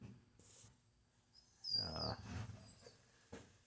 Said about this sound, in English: There's my little puppy dog. What's wrong, girl?